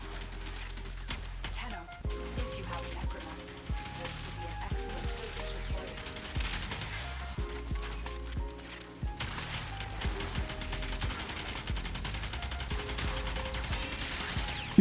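Twin Kohmak shotgun pistols firing in Warframe, rapid repeated gunshot bursts layered with game effects and a low rumble, almost continuous, with a voice talking over the fire.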